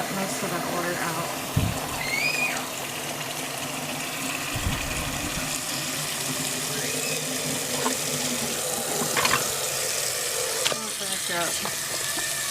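Rinse water running and draining from a sink while washing wool, a steady close gurgle and flow with a few clunks, and a person speaking over it.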